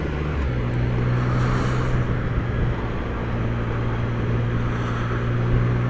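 Steady engine drone from a Can-Am Ryker three-wheeled motorcycle while riding on a range and road, a continuous low hum mixed with wind rush, moderately loud and unbroken, with no voices.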